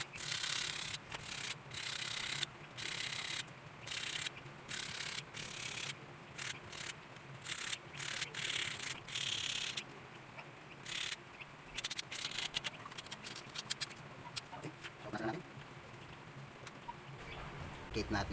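Rhythmic rasping strokes of sanding rust off a steel front wheel part from a Mio Sporty scooter, short bursts in quick succession, close and fairly quiet, with brief pauses between passes.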